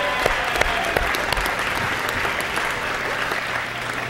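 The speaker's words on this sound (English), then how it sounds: "we can all give you a big hand, a round of applause" An audience claps for student presenters in a class setting, a steady wash of applause with scattered sharper claps, moderately loud and sustained throughout.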